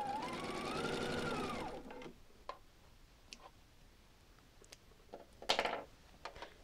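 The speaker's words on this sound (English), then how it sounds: "I will sew these both on the two sides before I press them." A sewing machine runs in a fast, steady burst for about two seconds, stitching quilt pinwheel pieces, then stops, leaving faint clicks and light handling noises in a quiet room.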